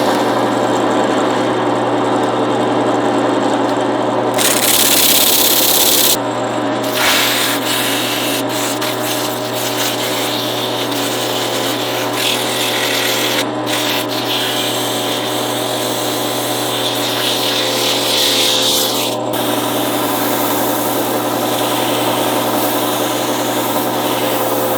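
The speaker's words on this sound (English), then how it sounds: "Now that it's cured, I'll sand it again." Sandpaper rubs against a turned 2x4 wooden rattle spinning on a lathe, a loud, continuous hiss over the steady hum of the machine, with brief shifts in pressure throughout.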